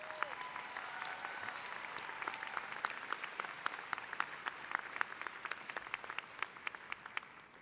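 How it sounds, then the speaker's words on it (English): A large audience at a University of Houston Law Center spring commencement applauds its graduates in a broad, steady wash of clapping. It comes from a distance, with a faint voice briefly at the start. "let's give our graduates another round of applause"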